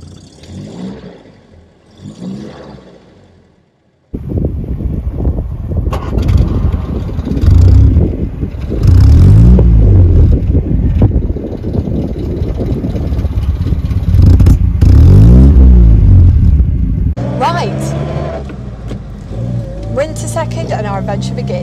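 A classic Sunbeam MK3 saloon, the Sunbeam Talbot 90 rally car, cranks with choke and catches, then its engine revs in loud, rising bursts close by with wind buffeting, and someone talks during the quieter start.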